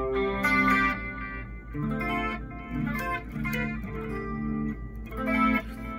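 A clean electric guitar tone through a Line 6 Pod Go with chorus and delay plays shimmering chords and notes in phrases that swell and fade, with echoing tails.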